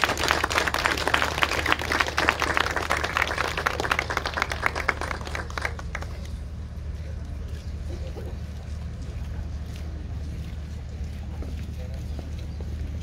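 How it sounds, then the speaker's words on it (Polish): Audience applause at a school pledge ceremony for new students of an inland navigation technical school in Wrocław, a dense burst of clapping for about six seconds that then thins into a quieter, murmuring hall. "Myślę, że należą mu się brawa,"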